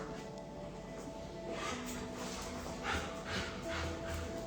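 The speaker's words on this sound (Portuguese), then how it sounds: "Minha mãe tá passando com os cachorros aqui." Dogs whimper and yip in short bursts, fairly close, over a steady background hum.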